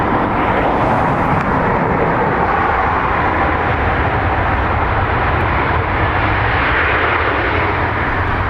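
An airplane arriving at Dublin Airport from Stansted gives off a loud, steady engine roar close by, a dense unbroken rush that holds at full strength the whole time with no voices.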